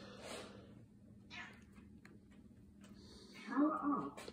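A black cat gives a few short meows, quiet and somewhat distant, with a louder meow near the end over a faint background hum.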